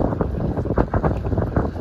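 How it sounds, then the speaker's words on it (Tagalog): Strong beach wind blows into the microphone on a city street behind seaside buildings, a loud steady buffeting roar with gusty pulses throughout. "Sobrang hangin. Galing sa beach."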